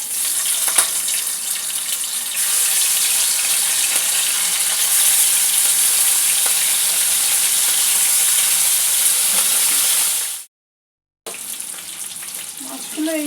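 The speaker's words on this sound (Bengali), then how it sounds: "চিংড়ি মাছগুলো এক এক করে ভেজে নেব।" Prawns fry in hot mustard oil in a kadai, giving a loud, steady, close sizzle that cuts out for a moment near the end and then resumes.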